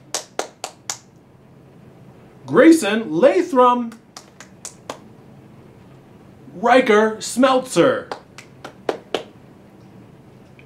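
Scattered claps or snaps from a school morning-announcement audience at Mammoth Heights come in short sharp bursts between two stretches of a voice reading names aloud.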